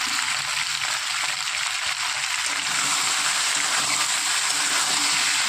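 Taro and shrimp frying in oil with salt and turmeric, a loud, dense, steady sizzle with faint stirring, close and continuous throughout.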